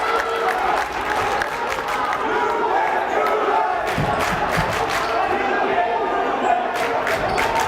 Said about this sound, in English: This AMSA crowd's getting loud.